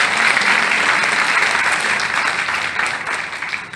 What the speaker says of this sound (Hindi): जोरदार उसके लिए ताली बजा सकते हैं लेडीज के लिए